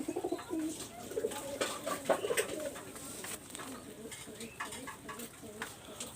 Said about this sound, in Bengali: যারা এরকম লাল চোখের কবুতর খুঁজতেছেন তারা কালেক্ট করতে পারেন